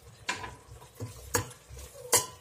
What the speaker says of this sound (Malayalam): ഇതൊന്ന് പച്ചമണം മാറുന്നവരെ ഒന്ന് വഴറ്റി കൊടുക്കാം